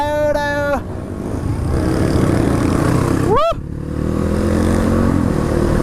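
Dirt bikes on an off-road group ride: engines rev loudly and continuously nearby, with a sharp rising whine as one bike accelerates past mid-way, then steady engine drone continues.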